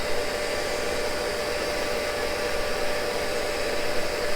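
A Cincinnati tool and cutter grinder grinds a Morse taper, giving a steady, loud, even whir and hiss with no pauses or talking.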